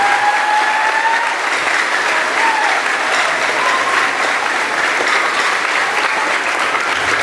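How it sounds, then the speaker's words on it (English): A crowd of students, staff and families gives a loud, sustained round of applause, thick steady clapping from start to finish with a faint whistle or two riding over it. "So let's give them a round of applause."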